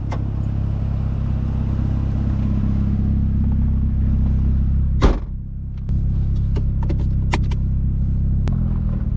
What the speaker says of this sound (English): we were taking a drive in my 240 wheel horsepower straight pipe Miata.